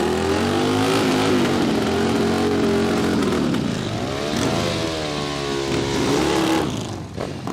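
A drag racing motorcycle launches down the dragstrip at Palmyra Dragway, its engine a loud, continuous close roar with rising pitch sweeps as it accelerates hard, easing off and thinning near the end.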